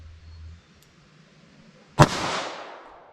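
A single sharp, loud gunshot from a low-recoil handgun firing .38 Special Hornady Critical Defense ammunition cracks after a quiet pause and rings out in a short, fading echo.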